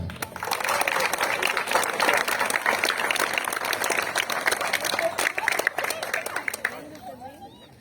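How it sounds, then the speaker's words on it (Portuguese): Applause from a ceremony audience at a school orchard event in Ferraz de Vasconcelos, sustained crowd clapping with some chatter mixed in, fading out near the end as a voice begins. "E agora, com mais palmas ainda"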